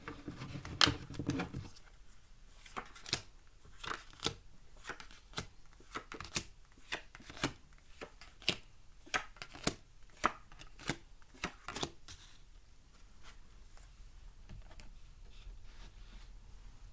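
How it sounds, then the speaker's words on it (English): Rapid riffling and soft slapping of tarot cards being shuffled, a run of crisp clicks and flutters close by with no talking. "So as I'm shuffling"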